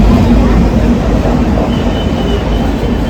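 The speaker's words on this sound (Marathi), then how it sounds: "आता इकडे ना विरार लोकल लागले पण" A fast Virar local train stands at a crowded suburban railway platform, a loud, steady low rumble and hum of the train filling the scene, with background crowd noise.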